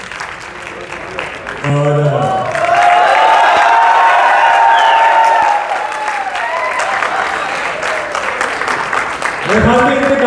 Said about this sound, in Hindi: महबूब ताली उनका शुक्रिया अदा करें